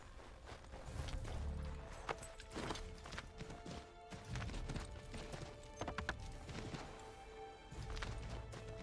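Horse hooves clip-clopping at a gallop in Assassin's Creed 3, a busy rhythmic patter of hoofbeats with occasional thuds and crashes, fairly loud and steady throughout with game ambience behind.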